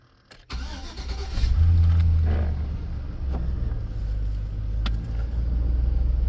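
A 2004 Chevy Silverado pickup with a repaired fusible link cranks and starts, then settles into a loud, close, steady low idle rumble with a few small revs and clicks, no talk over it.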